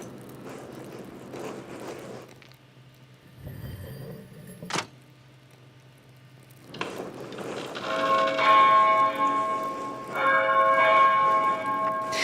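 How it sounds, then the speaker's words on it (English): Church bells ring in the medieval setting of the video game Pentiment, a bright cluster of chimes swelling in the second half after a quiet stretch with a low steady hum, moderately loud and alone. "The bells are ringing."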